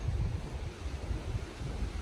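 Wind blowing steadily outdoors at dusk, a low continuous rushing and buffeting that swells and eases in uneven gusts, filling the whole stretch with no voices.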